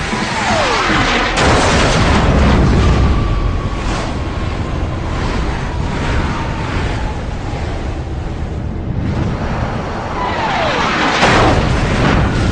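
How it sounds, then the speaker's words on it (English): A missile slams into a MiG-17 in aerial combat: a loud explosive boom followed by a long rumbling roar and a descending whine, with another blast near the end. "Debris from the explosion takes down the MiG's wingman."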